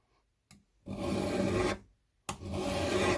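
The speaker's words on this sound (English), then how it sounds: "for that I have a diamond file. File this a little bit on the back" A diamond file rasps along the back of a Spyderco knife blade in two close, loud strokes, each a harsh gritty scrape with a brief silent pause between.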